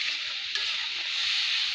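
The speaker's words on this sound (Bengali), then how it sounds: "হাফ চামচ দিলাম মরিচের গুঁড়া, একটু ভালো মতো কষিয়ে নেব" Chili powder and spices fry in a pan for a bottle gourd and shing fish curry, giving a steady, close, even hiss of sizzling oil with no talk.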